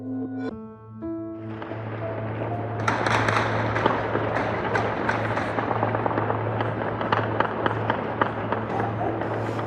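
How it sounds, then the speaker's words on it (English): Celebratory gunfire around Kabul, dense rapid crackling bursts of shots echoing from many directions, starting sparse then building into continuous overlapping volleys at a moderate distance over a low steady hum. "Celebratory gunfire all around Kabul."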